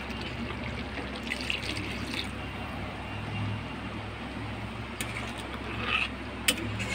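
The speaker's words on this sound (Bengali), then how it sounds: "আর একটুখানি জল দিয়ে দেবো।" Water is poured into a pan of mustard fish curry with cashews and chopped green chilli, giving a steady, moderately loud watery rush over a low background hum.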